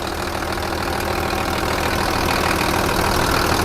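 An Isuzu TXD40 six-wheel dump truck diesel engine idles steadily and loudly up close, a continuous low rumble with a fine knocking texture and no speech.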